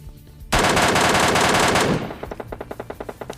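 An MK14 rifle in a video game fires a loud, dense stream of shots for more than a second, then a quicker run of sharp, evenly spaced single cracks follows.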